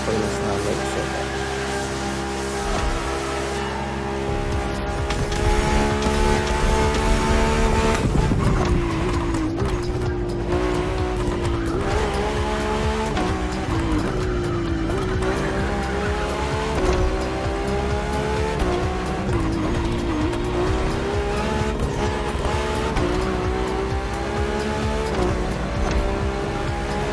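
A Ferrari F80 in The Crew Motorfest drives with a continuous engine drone that rises and falls as it shifts, and tire noise runs underneath throughout.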